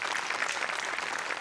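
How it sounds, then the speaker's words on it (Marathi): A studio audience at a Marathi comedy show applauds a performer's attempt, a continuous, even wash of clapping heard alone. "तुझ्या अटेम्प्टसाठी टाळ्या."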